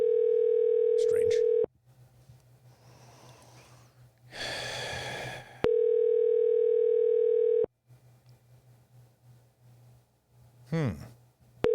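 Steady electronic telephone line tones from Google Voice while a call connects, two long bursts separated by quieter gaps with breathing and short vocal noises.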